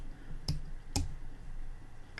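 Two crisp computer keyboard keystrokes click about half a second apart, near and distinct above a faint room hum, with no speech.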